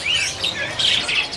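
Jalbo songbirds chirp at the Pramuka bird market, giving bright, high tweets in quick overlapping bursts that stay close and fairly loud, with no talking.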